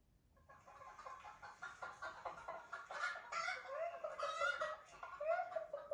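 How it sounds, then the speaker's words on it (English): A chicken sound effect plays in a guessing game, a run of close, rhythmic clucks building into a louder drawn-out squawk. "A chicken!"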